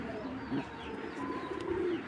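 Racing pigeons, a king pigeon among them, give soft low cooing that rises and falls through steady murmuring, with no one speaking.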